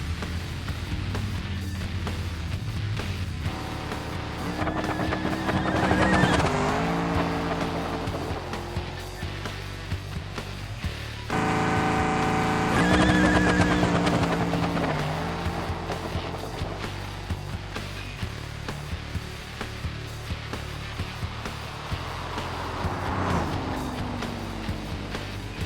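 A supercharged Bruckell Moonhawk drag car in BeamNG roars down a no-prep strip at about 250 mph, its engine note rising and surging through two loud passes, with no voices over it.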